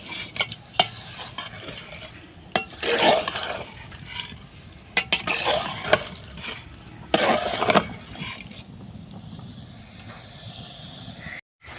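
Soaked meat cooks in a pot on a clay stove, with a soft hiss under intermittent scraping and clinking of a utensil against the pot, fairly quiet and close.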